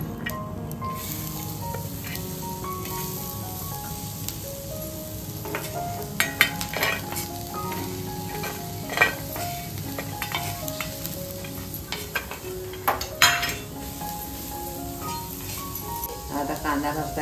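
Onion roasting in a little oil in a pan, a soft continuous sizzle with scattered sharp clinks and scrapes of stirring, while someone talks over it.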